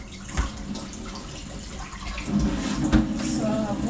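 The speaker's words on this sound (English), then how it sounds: "Okay, so I'll pass it through the hot water." Hot water pouring and splashing over washed peas in a home kitchen, an uneven running gush with occasional louder splashes, no talking.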